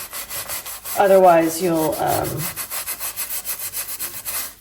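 An antique tinned copper pot is scrubbed by hand with a baking soda paste, a close, rhythmic rubbing that repeats in steady strokes while a voice speaks briefly over it.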